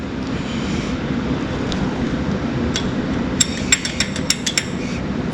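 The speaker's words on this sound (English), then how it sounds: "I'm gonna tap it a few times and with a hammer and see if it breaks" A hammer taps several times on a stuck engine part of a barn-find International Super A tractor. The sharp metallic knocks come in a quick irregular series over a steady wind-like rumble.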